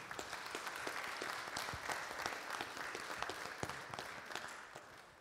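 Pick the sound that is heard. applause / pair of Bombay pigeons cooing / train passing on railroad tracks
applause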